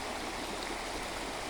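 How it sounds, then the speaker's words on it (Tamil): A waterfall on the road from Bommidi to Yercaud in the northern Yercaud hills roars as a dense, steady rush of falling water, loud and continuous, with no other sounds. "அருவினா அருவி, இதுதாங்க அருவி."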